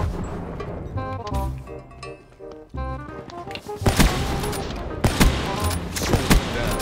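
Rapid gunfire bursts and impacts in a Call of Duty Black Ops III multiplayer match, dense and loud, with game music and effects underneath and sharper volleys near the end.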